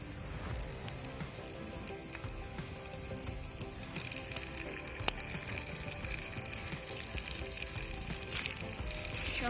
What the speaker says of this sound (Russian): уже шипит.